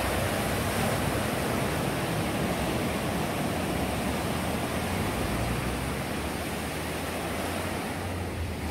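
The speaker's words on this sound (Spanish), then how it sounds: "Me voy a callar para que disfruten el sonido de estas olas del mar." Ocean waves wash steadily onto a Puerto Vallarta beach, a continuous broadband surf roar with no distinct breaks, loud and close throughout with no voices.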